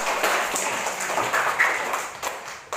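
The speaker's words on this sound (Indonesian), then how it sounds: "Tepuk tangan untuk kelompok Merpati" A class's brisk round of clapping for the Merpati group during a school teaching-practice lesson, close and fairly loud, with dense overlapping claps that taper near the end.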